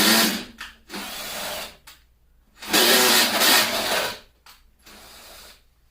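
A power drill bores a hole in a subwoofer box for an 18-inch Lavoce driver build, whirring in several close bursts of one to two seconds separated by short pauses.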